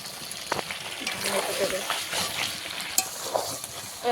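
Potatoes are dropped into a pan of chicken cooking in oil, setting off a close sizzle with stirring scrapes and a couple of sharp knocks, while a voice talks faintly in the background.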